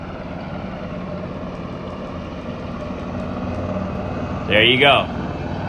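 In Microsoft Flight Simulator, an MV-22 Osprey tiltrotor's engines throttle up for takeoff as a steady droning hum that grows slightly louder, with someone speaking briefly near the end.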